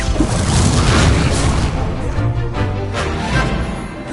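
An Incendio fire spell cast in Hogwarts Legacy on PS5 bursts out as a loud, dense whooshing blast with crackling booms that roll on for a few seconds amid game effects.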